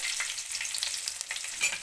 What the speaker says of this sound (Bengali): আদা রসুন কুচো দিয়ে একটু নেড়ে নিলাম